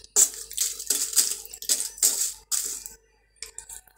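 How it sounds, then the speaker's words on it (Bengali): Jackfruit seeds dry-roasting in a clay pan over a wood fire, stirred in bursts of bright, hard rattling clatter, five or six close stirring strokes followed by a brief pause and a final softer shake. "দেখুন এগুলো আমরা কাঠো খোলায় ভাজতেছি"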